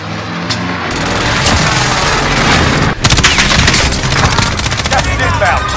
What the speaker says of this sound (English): Designating target for airstrike.